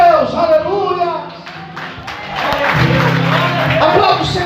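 Church congregation clapping and cheering during a worship service, with rhythmic applause swelling in the second half while a preacher's amplified voice talks over it.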